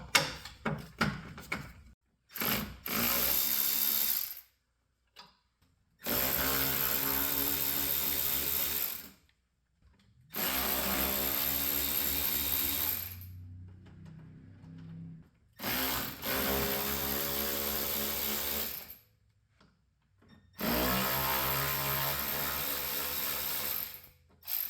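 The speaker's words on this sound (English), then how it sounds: "Step 2 will be to remove the 5 10mm bolts underneath the bumper." Power tool backing out 10mm bolts beneath the front bumper of a 2019-2023 Ford Ranger, five loud whirring bursts of several seconds each, separated by quiet pauses and short clicks.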